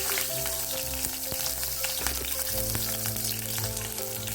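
Garlic fries in hot oil with mustard seeds, fenugreek, curry leaves and asafoetida for a sundakkai kara kuzhambu, giving a dense close crackling sizzle with a low hum beneath and no talking.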